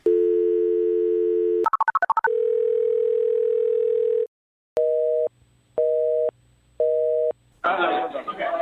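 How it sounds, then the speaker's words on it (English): A Skype call being dialed gives a steady electronic ringback tone, then a warbling burst, a long held tone and several evenly spaced short beeps, ending in a rush of noise as the line connects. "All right, I'm dialing. I'm dialing."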